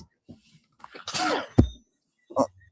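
A single sharp sneeze bursts out loud and close, preceded by a brief inhale, with short quieter sounds before and a small noise after.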